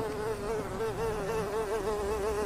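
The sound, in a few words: fly buzzing sound effect in a radio play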